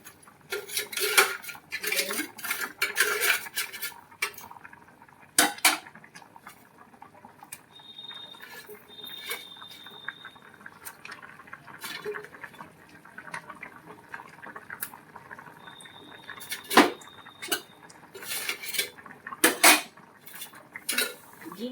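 A metal lid lifts off a pan of magur fish curry on the stove, with loud clanks and utensil clatter over a faint bubbling and sizzling background.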